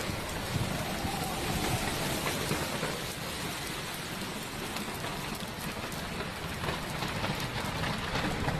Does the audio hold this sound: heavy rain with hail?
yes